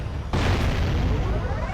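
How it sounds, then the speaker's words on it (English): Cannon fired in the video game Jak and Daxter: one sudden loud boom at the start, followed by a broad rumbling roar that holds steady and loud to the end. "Just shoot it a couple more times because, one, just to be safe, and two, it's a cannon."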